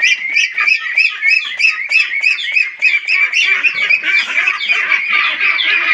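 A crowd of Pekin ducks on a duck farm quacking loudly and continuously, many overlapping calls in a dense, raucous chorus close by.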